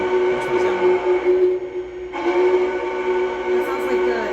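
A Lionel model train whistle in Union Pacific Big Boy style sounds as a steady, sustained tone for several seconds, briefly dipping midway, with faint background voices.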